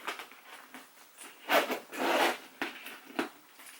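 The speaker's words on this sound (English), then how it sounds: "It seems to be pretty good on this zipper here in the front." A zipper on the front of a Louis Vuitton Monogram Palm Springs PM backpack is worked in several short, soft pulls, close and quiet, with no voices.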